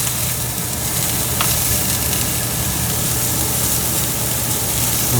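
Vegetables char in a very hot pan with a loud, continuous sizzle and steady crackling spatter. The sound runs unbroken with no talking.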